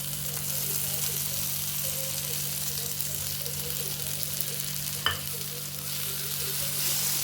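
Paneer being stir-fried with turmeric on a tawa gives off a continuous soft sizzle with faint scraping from stirring and a single sharp tap midway, all over a low steady kitchen hum.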